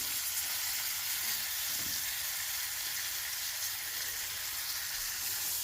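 Pork roll fries in a big pan during a Christmas morning breakfast, giving a steady, moderately loud sizzle with a brief clatter near the start and no voices.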